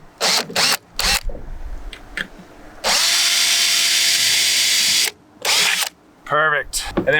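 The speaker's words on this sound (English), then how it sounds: "I'm gonna start by drilling our pilot holes through the pilot holes we've already created" A power drill bores pilot holes through metal flashing on a skoolie skylight. Several short, loud bursts of the drill give way to one sustained whine of about two seconds, then more brief bursts, heard close up.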